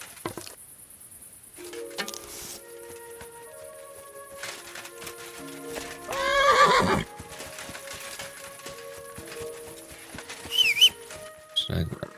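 A horse in the medieval video game Kingdom Come Deliverance 2 neighs loudly and whinnies, with hooves clopping and ambient birdsong around it, over game music and a voice talking.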